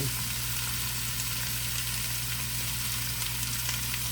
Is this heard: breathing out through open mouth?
no